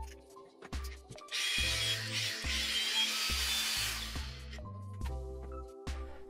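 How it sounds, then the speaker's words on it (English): A cordless brushless 125 mm angle grinder, fitted with its guard and disc, spins up briefly with a bright high whine that holds for a few seconds and winds down, between sparse clicks and handling knocks, with no talking. "Firstly, I mount the shield and disc on the grinder and then start them just to see that it works."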